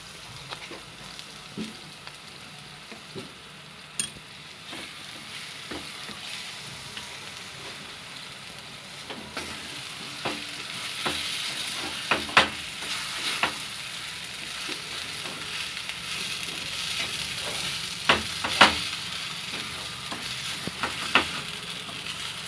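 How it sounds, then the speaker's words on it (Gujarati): Ghee sizzles steadily as corn upma is fried and stirred in a pan, a continuous crackling hiss dotted with sharp pops and light scraping strokes, close and even throughout. "હવે આપણે ઉપરથી થોડુંક ઘી નાખશું"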